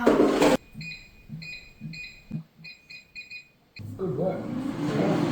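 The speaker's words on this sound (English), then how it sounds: "In the air fryer. And you can push the buttons." An air fryer's control buttons are pressed, giving a series of short electronic beeps in quick pairs and groups across the middle of the clip, with louder voices and handling noise at the start and end.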